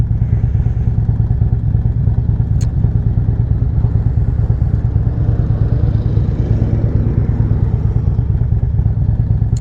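A motorcycle rides through downtown Elizabethtown in Hardin County, its steady mid-pitched engine rumble continuous and close throughout, with occasional light clatter and no talking.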